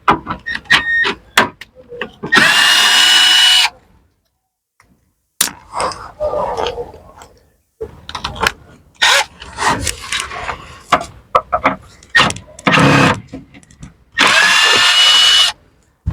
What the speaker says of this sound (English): And then I've got to undo these 10mm bolts first.